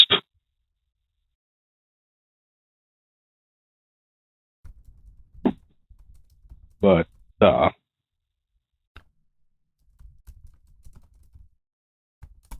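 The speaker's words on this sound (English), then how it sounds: "I'm just typing because someone just messaged me about Ludwig." Sparse clicks of someone typing on a computer keyboard, close by, in short scattered bursts with pauses between them and a brief spoken word.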